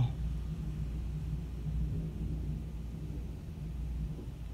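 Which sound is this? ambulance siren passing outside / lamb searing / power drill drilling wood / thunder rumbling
thunder rumbling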